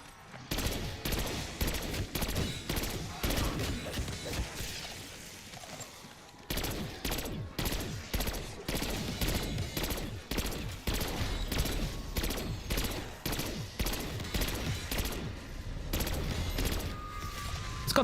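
Rapid, loud bursts of automatic gunfire from a low-recoil gun in Black Ops 6 Zombies, nearly continuous with brief pauses, as a player fights through a zombies round.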